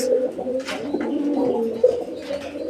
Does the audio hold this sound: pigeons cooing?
yes